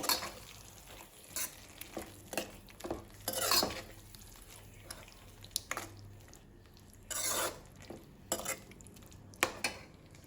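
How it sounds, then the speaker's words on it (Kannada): Shallow-fried bitter gourd stirred into a simmering gravy in a pan, with a soft background sizzle broken by repeated scraping spoon strokes and clanks against the pan, close, with no talking. "ಈಗ ಇದಕ್ಕೆ ಶಾಲೋ ಫ್ರೈ ಮಾಡ್ಕೊಂಡಿರುವಂತಹ ಹಾಗಲಕಾಯಿಯನ್ನು ಸೇರಿಸ್ಕೊಳ್ತಾ ಇದ್ದೇನೆ. ಇದನ್ನು ಚೆನ್ನಾಗಿ ಮಿಕ್ಸ್ ಮಾಡ್ಕೊಳ್ಬೇಕು"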